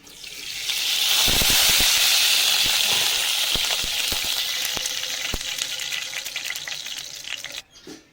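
White cooking oil hits a hot wok over a clay stove with a loud, steady sizzling hiss that swells quickly and holds for several seconds, with a few sharp crackles and pops.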